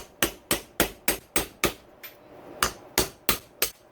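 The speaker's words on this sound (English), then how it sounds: "I'm going to start with a punch and just a hammer" A hammer drives a punch against the locking ring on a Yamaha YZ motorcycle rear shock. About a dozen sharp metallic strikes land in a fast, steady rhythm. They are close, loud and clear, with no talking.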